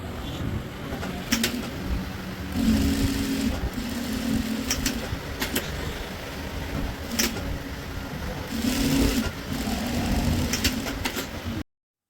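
A sewing machine stitches the fabric of a semi-Patiala pant in runs of fast mechanical whirring that pause and start again, close by, with faint background noise and no speech.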